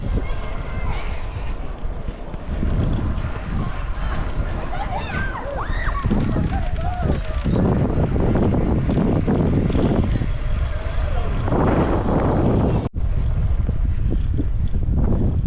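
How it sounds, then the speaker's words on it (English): Strong gusty wind buffets the microphone throughout an outdoor ride, a loud continuous low roar with bursts and brief dropouts, and a voice talks intermittently beneath it. "Did I mention it was windy?"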